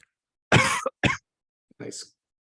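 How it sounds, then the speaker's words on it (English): Two harsh coughs close to the microphone, followed after a short pause by a softer throat-clearing cough. "Nice cough to end the episode"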